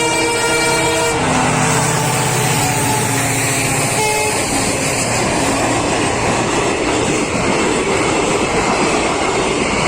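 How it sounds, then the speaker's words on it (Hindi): An Indian Railways Salasar Express train, running Jodhpur to Delhi, sounds a long loud horn as it arrives, then thunders past very close with a continuous heavy rumble and clatter. "ये सालासर एक्सप्रेस है फ्रेंड्स, सालासर, जोधपुर दिल्ली,"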